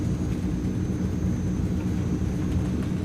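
Transall C160 turboprop engines at full power in Microsoft Flight Simulator, a steady, loud low rumbling drone with a faint high whine held constant throughout.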